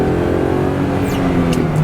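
A Chrysler Crossfire's V6 engine pulls hard under acceleration, a loud, close, steady drone with rising harmonic tones inside the cabin, heard alone.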